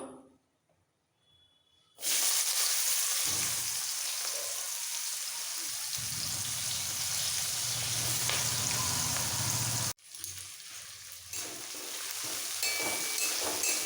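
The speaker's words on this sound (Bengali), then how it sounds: "পেঁয়াজটা একটু ভাজবো হালকা লাল করে ভেজে নিতে হবে" After a brief quiet start, chopped onion hits hot oil tempered with whole cumin for a cabbage and fish-head dish, bursting into a loud, steady sizzle that briefly cuts out and then resumes.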